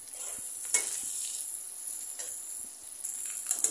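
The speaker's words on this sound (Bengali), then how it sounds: "সিদ্ধ হয়ে এলে এখন পেঁয়াজ কুচি দেবো তেলের মধ্যে" Chopped onion frying in oil, a close, high-pitched sizzle hissing steadily with occasional stirring scrapes and pops, no talking.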